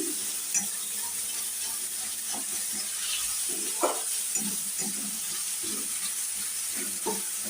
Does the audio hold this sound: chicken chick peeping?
no